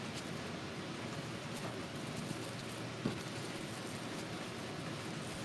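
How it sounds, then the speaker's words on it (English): Steady rain falls outside, an even, soft hiss of drops that runs the whole time with no pauses and stays fairly faint. "that's rain, Dad"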